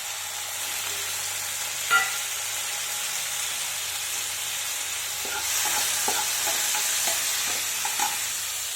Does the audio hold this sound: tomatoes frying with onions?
yes